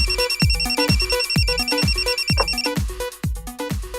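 An electronic telephone rings in rapid repeating bursts during a radio call-in show, a steady trilling pattern that keeps going without pause and sits clear and fairly close.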